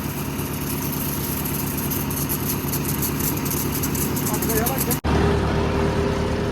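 Tractor engine idling nearby, a loud, steady mechanical rumble that holds an even throb throughout, with a sudden brief cut near the end before the idle resumes.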